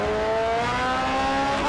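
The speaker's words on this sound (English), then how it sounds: "Braking down to the first proper corner." Engine tone from a Dallara race car in Grid Autosport drops steadily as it brakes for a corner, a loud, close, continuous whine falling in pitch with faint tire noise.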